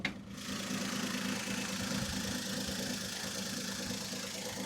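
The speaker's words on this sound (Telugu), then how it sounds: "ఇంజిన్ బీటింగ్ కూడా ఎక్సలెంట్ బీటింగ్ అయితే ఉందండి." A 2011 Maruti Zen Estilo petrol engine idles steadily nearby, a smooth even hum with a faint rhythmic beat throughout, and no voices.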